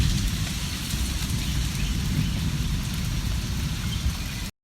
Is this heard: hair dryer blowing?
no